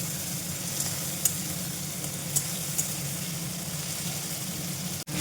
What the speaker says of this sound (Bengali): টমেটো, পেঁয়াজ, আদা, রসুন, কাঁচা লঙ্কা, যা যা আমরা চিকেনে মশলা দিই সেগুলোকে আগে তেলের মধ্যে ভালো করে একটু ভাজা ভাজা করে নেব।